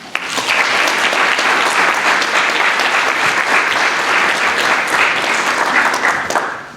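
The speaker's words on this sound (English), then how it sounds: "Please join me in giving a round of applause to Dr. Basyouni." Loud, sustained applause from an audience welcoming a speaker to an Islamic lecture in Oregon, many hands clapping in a thick continuous roar that swells quickly and holds steady for several seconds before tapering.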